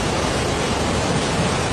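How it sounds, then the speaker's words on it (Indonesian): Strong river current during a flood in Lahat, rushing as a dense, steady roar with no breaks, loud and close. "Arusnya kencang, bahkan aliran sungainya berpindah."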